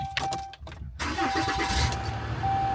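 A 2017 Ram 5500 bucket truck with an Altec AT41S lift cranks and fires up, the starter churning briefly before the engine catches and settles into a steady, loud, close idle rumble.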